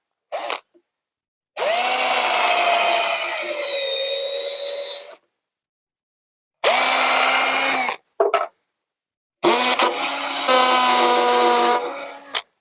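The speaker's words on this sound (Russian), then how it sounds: "Сейчас будем засверливать немножко." A power drill whines in three long bursts separated by silence, high-pitched and close, with short stutters between runs, drilling for a homemade shelf unit.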